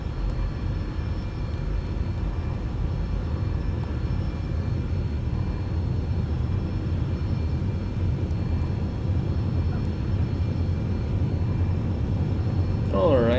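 Simulated airplane engine in X-Plane 11 drones steadily through a takeoff roll, a loud, constant low rumble with no break and a brief squeak near the end.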